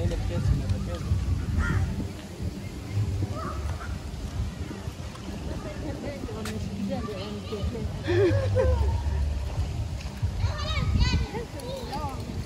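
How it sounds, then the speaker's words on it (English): A parrot gives harsh, scratchy calls at a lagoon-side restaurant, several short squawks scattered over steady background noise and nearby people talking. "Oh, we have a parrot here."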